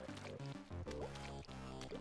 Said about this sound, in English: all the different splashing sound effects of going in ink